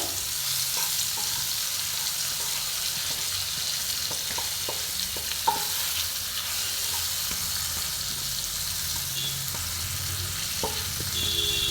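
Prawn curry with green tomato fries and sizzles steadily in a pan, a continuous hiss with occasional soft clicks of a spoon stirring, close and fairly loud with no talking.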